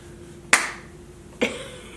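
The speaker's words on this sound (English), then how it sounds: "There was a clap." Two sharp, crisp hand claps ring out alone in a quiet podcast studio, close to the microphone and a little under a second apart.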